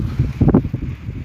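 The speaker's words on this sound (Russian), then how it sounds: "Но ветер все равно с места срывает." Strong wind gusts buffet the microphone near the village of Kenzhekol outside Pavlodar, Kazakhstan, giving low rumbling bursts of wind noise with a few louder rustling surges and no speech.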